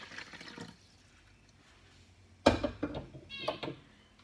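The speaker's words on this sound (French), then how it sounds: "Je vide de l'eau bouillante." Boiling water poured into a baking dish as a bain-marie for a genoise sponge, a sudden splashing gush that rises sharply and then gurgles unevenly for a couple of seconds after a quiet start.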